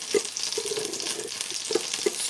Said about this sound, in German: ich mache auch gerade die Pfanne heiß mit etwas Öl und eine kleine Butterflocke habe ich da hineingegeben